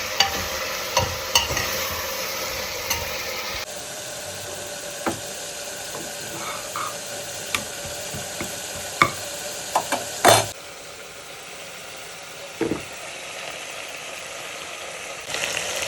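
Meat frying in a pan on a home kitchen stove, a steady sizzle broken by repeated scraping and stirring clinks of a utensil against the pan, fairly close with no voices.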